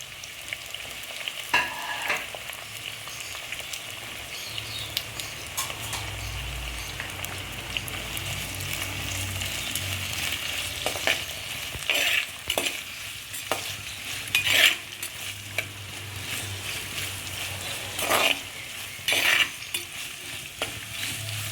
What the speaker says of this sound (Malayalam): നമ്മളിതിലേക്ക് സവാള ചേർത്ത് കൊടുക്കുകയാണ് ഇതിൻ്റെ ഒപ്പം തന്നെ നമുക്ക് പച്ചമുളകും കറിവേപ്പിലയും ചേർത്ത് കൊടുക്കാം